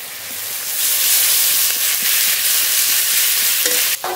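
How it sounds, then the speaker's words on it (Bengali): Spice paste of ginger, garlic, cumin-coriander and dried chilli fries in a pan for a silver carp fish curry, giving a loud, continuous sizzling hiss that rises early and holds steady, with a clatter of stirring near the end and no voices. "মশলাটা খুব ভালো করে কষিয়ে নেব"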